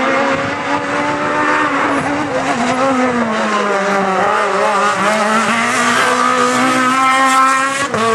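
An Opel Astra Kit Car rally car races hard, its engine screaming and rising through the revs continuously, loud and close, with tire noise and no talk.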